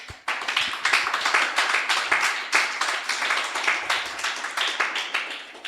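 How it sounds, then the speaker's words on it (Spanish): Congregation applause in a Spanish-language church service: loud, close, steady clapping from many hands in a dense rhythmic patter throughout, with no talk over it. "Denle un aplauso al Señor."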